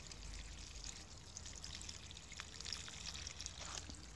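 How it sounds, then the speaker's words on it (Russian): Soft, steady pouring of water onto tobacco seedlings in peat-enriched soil, a quiet continuous trickle with faint splashes, no voices. "залить, хорошенечко пролить водой"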